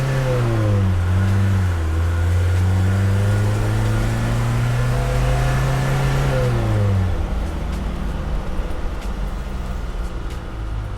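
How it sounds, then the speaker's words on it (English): A restored Mercedes 240GD diesel revs out through the gears, its engine note rising, dropping at shifts and climbing again, loud and close, then easing off into steady road noise. "it's not the fastest thing in the world, so you have to rev it out"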